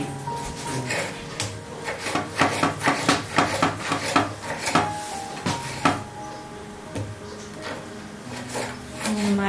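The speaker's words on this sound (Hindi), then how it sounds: "हम इसके लिए 3 अदर टमाटर जो है वो चॉप कर रहे हैं" Tomatoes chopped with a knife on a cutting board in a home kitchen, a run of quick, close, uneven taps and knocks that cluster together, pause, then resume with scattered softer cuts.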